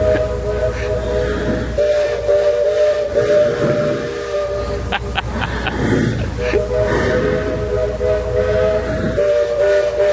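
A steam whistle from the Magic Kingdom Railroad steam train sounds as a steady, sustained tone over a hissing outdoor background, with faint crowd noise and a few brief sharp sounds near the middle.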